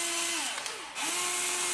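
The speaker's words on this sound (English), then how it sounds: "we'll drill the pilot holes again with a 1/16 inch bit." Small power drill boring pilot holes with a 1/16 inch bit into a camera quadcopter frame, a loud close whine that dips in pitch as the bit bites, then spins back up.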